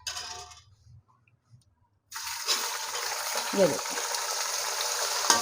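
Chicken pieces drop into hot ghee after a near-silent pause, then a loud, steady frying sizzle takes over with a few spatters. A voice speaks briefly just before.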